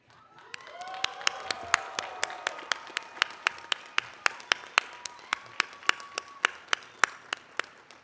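Scattered, distinct handclaps ring out at a university master's commencement ceremony, spaced fairly evenly and fairly loud against a quiet hall. A brief tonal murmur of voices sits underneath near the start.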